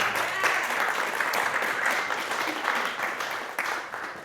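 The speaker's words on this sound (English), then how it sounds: "Give this person a great round of applause as they come up." Steady applause from a crowd, clapping continuously throughout at a fairly even level with no pauses.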